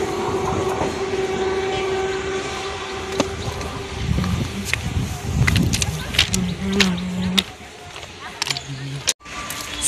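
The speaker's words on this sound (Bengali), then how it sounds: "আর এই যে ট্রেনটাও চলে গেল।" Train pulling away from a station, with heavy rolling rumble and clattering wheels close by, some higher metallic squeals and tones, and brief bits of nearby voices.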